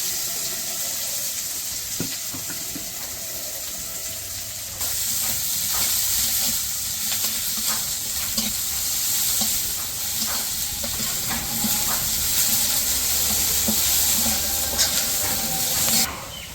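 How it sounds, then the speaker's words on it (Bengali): Onion and garlic frying in oil in a wok, a dense continuous sizzle and hiss with occasional stirring clinks, loud and close throughout with no talking. "পেঁয়াজ রসুন একটু ভেজে নিচ্ছি,"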